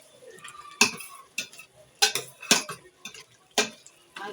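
A spoon scrapes and knocks against a cooking pot while vegetable stew with scent leaf is stirred, giving a handful of sharp, irregular clinks and scrapes close by, with quiet gaps between them.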